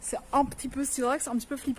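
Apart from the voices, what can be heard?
No everyday noise stands out behind the speech.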